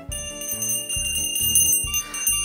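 A small bell rings close by, several quick, bright strikes in an uneven rhythm with a sustained metallic ring, and no talk.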